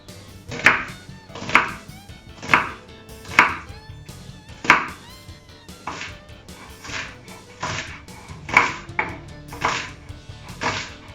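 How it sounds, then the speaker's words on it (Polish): A knife dices half an onion on a board, giving about a dozen sharp, evenly paced chops with crisp cutting thuds, close and clear with no talking. "pół cebuli. Którą również kroimy w kosteczkę."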